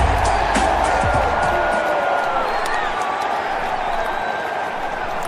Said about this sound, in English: Thank you everybody for giving me a round of applause for rapping the beat.